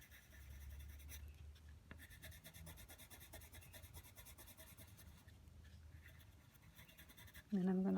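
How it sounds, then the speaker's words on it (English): A lighter coloured pencil blends shading on paper while drawing a Lego figure, giving soft continuous scratchy strokes that are quiet and close, with a louder knock near the end. "I'm going to blend with my lighter pencil"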